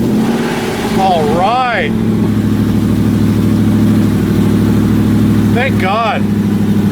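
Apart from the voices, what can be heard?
car engine starting and running after battery fix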